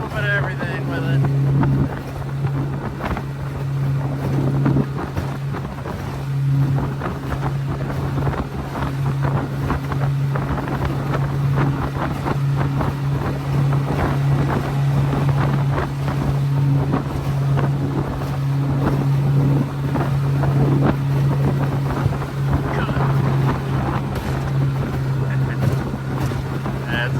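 A small fishing boat motoring on Lake Michigan, steady droning engine hum with wind buffeting the microphone and water noise, continuous and close throughout.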